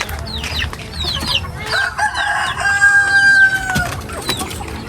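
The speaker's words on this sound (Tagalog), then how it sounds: "tingnan natin yung mga manok dito pinakain ng tapak" Several chickens on a rural Philippine farm cluck and crow close by, with overlapping calls and a few bursts of louder crowing against a busy outdoor background, and no talking.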